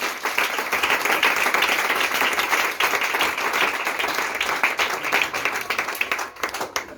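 A church congregation applauds, with dense, sustained clapping from many hands filling the space for several seconds and tapering slightly at the end.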